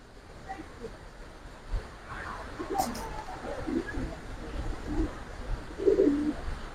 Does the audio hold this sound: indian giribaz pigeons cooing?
yes